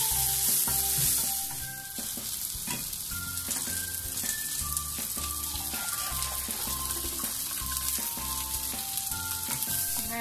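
Onions sizzle steadily in a hot pan and are stirred throughout, with repeated scraping and clinking of the utensil. A faint tap-like hiss runs underneath, and no voice is heard.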